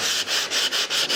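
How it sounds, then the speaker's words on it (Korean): Sandpaper, rolled up to follow the profile, is rubbed by hand along a wooden baseboard in an apartment being remodelled: a steady, close, loud rasping in short strokes with brief pauses between them, and no voices. "사포질을 해줍니다."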